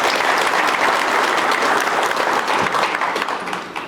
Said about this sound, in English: Please give a huge round of applause for Dashin Bank.